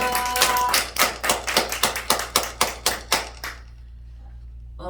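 Rhythmic clapping for a seminary revival worship gathering: about fourteen sharp, evenly spaced claps in steady unison, loud and close, that stop abruptly, leaving a quiet room tone with a low hum.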